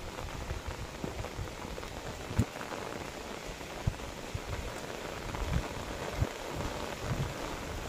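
Steady rain falls outdoors on a roadside path, a dense, even hiss with a few sharper drips and knocks, moderately close and with no talking.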